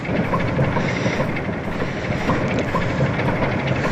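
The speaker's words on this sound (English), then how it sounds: "So wait till the train comes," Train arriving in a video game, a steady broad rumble and rattle with rhythmic clatter that holds at a constant level throughout, with no voices over it.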